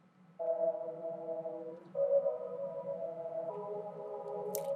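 A reversed synth chord made in FL Studio for an ambient pop trap beat holds steady sustained tones, shifting to new chords about every second and a half over a soft low drone, with no voices.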